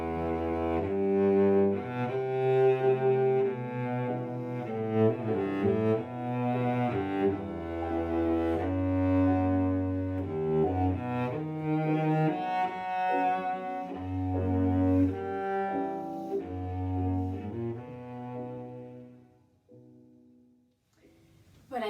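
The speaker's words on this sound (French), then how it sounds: "Et voici le son d'un violoncelle en cordes en métal." A cello strung with metal strings plays a melodic phrase of sustained bowed notes, rich and resonant, that fades out near the end.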